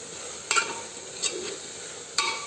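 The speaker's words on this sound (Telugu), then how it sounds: "ఇవంతా కూడా కాసేపు ఆయిల్లో ఫ్రై చేసేసుకుందాం" Spices such as chili powder, garam masala and sambar powder frying in oil in a pan for dal khichdi, a soft steady sizzle broken by three brief scraping stirs, close and alone.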